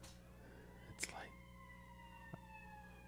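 Sirens from emergency vehicles wail outside, faint and distant with slowly sliding tones, under quiet voices in a room.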